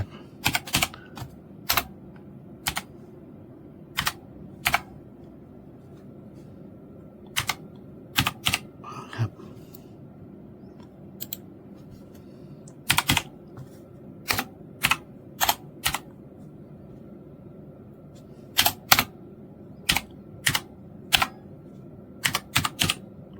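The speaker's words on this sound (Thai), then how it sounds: "แต่ก็ยังอยากได้ยินเสียงแป้น พิมพ์ที่ทำงานสำเร็จนี่ครับ" Scattered keystrokes clatter on a computer keyboard in irregular bursts, sharp clicks over a faint background hum.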